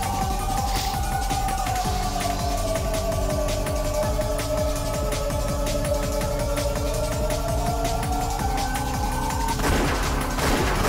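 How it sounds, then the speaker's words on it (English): Gunfire in the Umineko visual novel, a continuous fusillade-like rattle running steadily under a droning musical tone for the whole stretch, ending with a louder burst near the close. "They heard gunfire from down the hallway"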